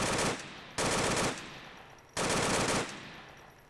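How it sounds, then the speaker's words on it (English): Loud automatic gunfire from a weapon in the VR shooter game Onward comes in three sustained bursts, each followed by a short echoing decay. "Let's waste all our bullets."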